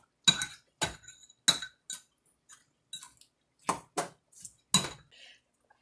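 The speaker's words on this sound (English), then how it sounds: "give that a good stir" A spoon scrapes and clinks against a pot while stirring SpaghettiOs seasoned with salt-free garlic and herb seasoning, in short separate bursts with quiet gaps between.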